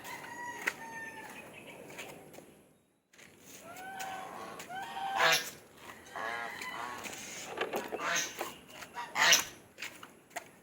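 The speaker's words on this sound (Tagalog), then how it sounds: "Napakain tayo ng gansa. Ito gansa to guys." Several honking goose calls ring out close by, some in quick bursts, amid clucking fowl and faint background sounds, with a brief quiet gap early on.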